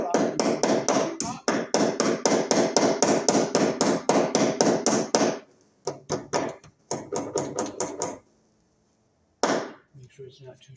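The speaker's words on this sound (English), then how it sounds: "And we're going to staple up here." Electrical wire being stapled to a wooden stud with a hammer tacker: a fast, steady run of sharp, close knocks for about five seconds, then a few scattered, separate hits with pauses between.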